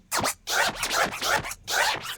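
A DJ scratches a vinyl record with no effects, cutting out several quick, rhythmic back-and-forth scrapes in short bursts separated by brief gaps, close and clear with no voices.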